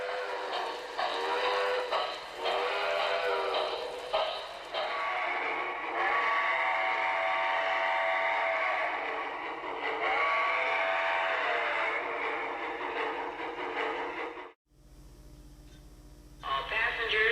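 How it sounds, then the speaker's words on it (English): Lionel toy steam locomotive sounding a long steam whistle with continuous chuffing and rolling locomotive noise, loud and close, dropping out briefly near the end before resuming. "Blow the steam whistle, close your eyes, and this time you were sure a real steam locomotive was passing"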